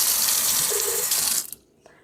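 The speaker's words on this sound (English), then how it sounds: "We're going to put just a little bit of cold water." Cold water poured from a tap into a jar for a vegan cabbage salad, a steady close splashing stream lasting over a second before stopping, followed by faint handling clicks.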